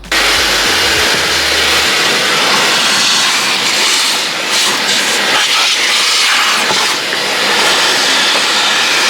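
Shop vacuum sucking rat droppings out of a long-parked BMW E30 in a garage: a loud, continuous whining hiss with rattling bursts as debris is pulled through the hose.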